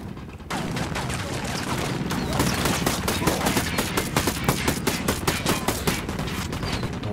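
Rapid bursts of video game gunfire, a dense stream of loud shots crackling continuously with brief pauses, close and sustained throughout.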